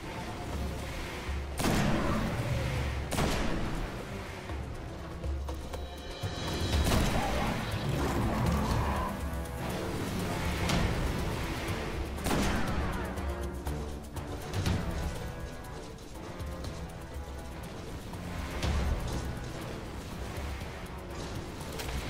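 Continuous weapon fire in Destiny hammers away over a long stretch, with repeated sharp shots, bursts and occasional heavier impacts layered over dense combat noise.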